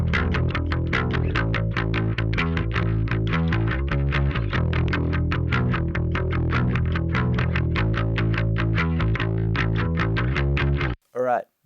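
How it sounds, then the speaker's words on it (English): An Ibanez Musician bass on its neck pickup with compression plays a fast, even run of repeated picked notes in a steady driving rhythm, loud and alone, ending with a brief pause. "I'm using my Ibanez Musician bass with the neck pickup. And I've got some compression on there"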